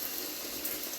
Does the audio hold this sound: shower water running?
yes